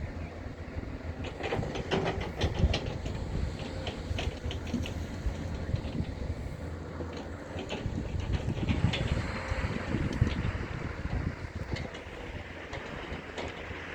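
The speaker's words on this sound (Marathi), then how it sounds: "हे बघा ट्रेन" A train rumbles past close by near Rajuri railway station in Beed, its wheels clacking in a steady rhythm over the rails, loud and continuous with no talking.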